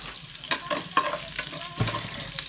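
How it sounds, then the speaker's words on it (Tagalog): Garlic and onion sautéing in a pan, giving a steady soft sizzle under which a few sharp clacks and scrapes of a spoon against the pan stand out, with no talk. "Ilunod na ko ning ahos. Dayon sibuyas,"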